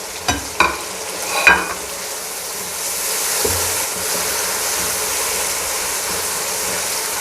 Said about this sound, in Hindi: इसमें 1 चम्मच हम ज़ीरा डाल देंगे, साथ ये भी फ्राई होगा